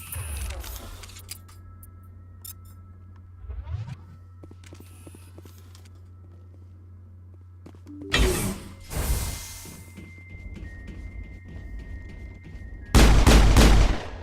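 Shotgun blasts in the Mass Effect video game, a few loud booming shots spaced several seconds apart over a low steady hum with quieter clicks between.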